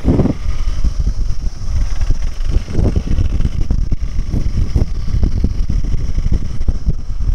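Motorbike and scooter engines droning on a mountain road ride toward Manang in Nepal, a loud steady rumble mixed with heavy wind buffeting the microphone throughout.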